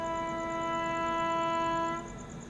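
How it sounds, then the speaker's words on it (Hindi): Andhra Pradesh Express, bound from Visakhapatnam to New Delhi, sounds a loud steady harmonic horn that holds for about two seconds before dropping off, over low rail rumble. "विशाखापट्टनम से चलकर नई दिल्ली की ओर जाने वाली आंध्र प्रदेश एक्सप्रेस"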